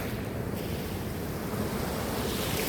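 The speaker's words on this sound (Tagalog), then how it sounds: "tingnan natin lang yung alon" Morning ocean waves wash in with a steady low roar and rushing surf, mixed with wind buffeting the microphone, even and moderately loud throughout.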